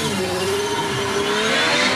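AFS P4T hillclimb car with a rear-mounted 2.5 litre V6 launching at a Shelsley Walsh British Championship run, a loud rising engine howl climbing in pitch as it accelerates away, heard alone.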